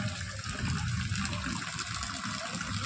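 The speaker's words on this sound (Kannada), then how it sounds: "ಮಳೆ ನೋಡಿ ಫ್ರೆಂಡ್ಸ್, ಎಷ್ಟು ಮಳೆ ಬೀಳ್ತಾ ಇದೆ" Heavy rain pours steadily outside a shop, a dense continuous hiss and splatter with water gushing and splashing, fairly quiet and unbroken, no talk.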